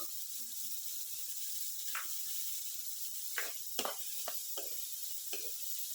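Beans fry in a pan for vegetable fried rice, a soft steady sizzle with a few brief stirring scrapes and clicks, faint and close with no talk.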